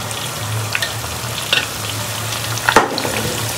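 Beaten eggs seasoned with salt and black pepper frying in a hot pan for egg chicken hakka noodles, a steady close sizzle broken by a few short scraping stirs, with no voices.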